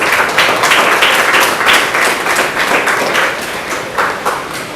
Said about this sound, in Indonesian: Yang lain, beri tepuk tangan dulu kepada Davi.